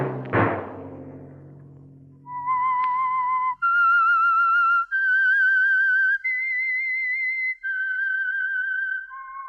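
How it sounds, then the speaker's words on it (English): A clear melodic whistled tune of several sustained notes, loud and close, following a brief low thud at the start, used as a radio show's signal. "Let that whistle be your signal"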